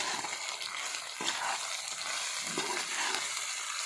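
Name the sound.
stirring jaggery into bogori pickle in a pan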